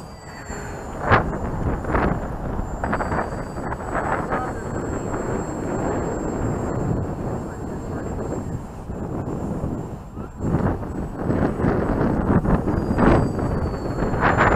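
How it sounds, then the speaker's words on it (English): Steady outdoor wind blowing at roughly 10 mph on a bumpy day, a continuous broadband rush with gusty swells throughout, loud and close to the microphone. "A little bumpy out here with this wind today. It's blowing around 10 miles an hour or so."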